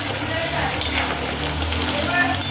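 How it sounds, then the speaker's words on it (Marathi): Paneer frying in oil in a black kadhai, a steady close crackling sizzle with no clear rhythm and a voice speaking over it. "चला मी आता सगळं पनीर तळून घेते मस्त"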